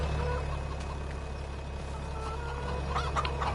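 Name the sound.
chickens clucking in Farming Simulator 25 video game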